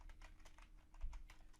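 Quick, light keystrokes on a computer keyboard while CSS code is entered, a quiet run of irregular clicks close by with no voices.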